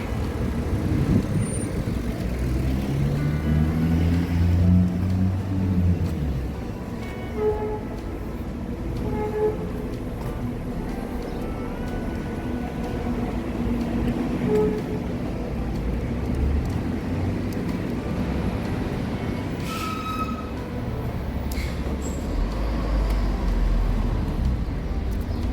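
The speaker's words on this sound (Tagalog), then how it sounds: "Traffic." Busy street traffic around Chinese Bazaar, a steady roar of engines and passing vehicles with a heavy low rumble and occasional horn-like tones, continuous and fairly loud throughout.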